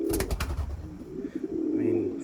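Newly bought pigeons coo in a low, throaty murmur close by, the sound running steadily for a couple of seconds after a short burst of noise at the start.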